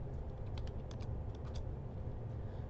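Quiet keystrokes tap on a computer keyboard while typing in Octave, a quick irregular run of light clicks over a low background hum, with no talking.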